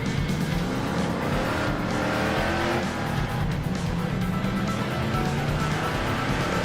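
Hemi-powered car with a 4-speed manual accelerating onto a highway while the engine bogs, a continuous loud rough engine roar with road and wind noise, running increasingly ragged throughout.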